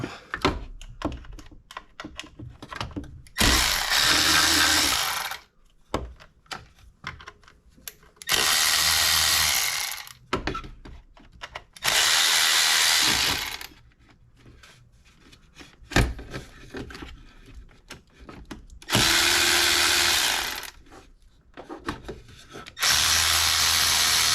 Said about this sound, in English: So let's get those bolts removed.